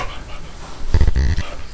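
A pet dog pants close by in a home, quick huffing breaths coming in a short rhythmic burst that rises, then fades.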